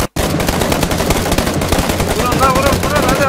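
Rapid automatic gunfire from a PUBG match, loud and close, with dense overlapping bursts that run nearly continuously after a brief silence at the start.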